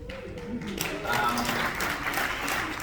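A crowd at a LifeWave event in Long Beach begins clapping, the applause swelling after a moment into a steady patter as a speaker's voice carries over it.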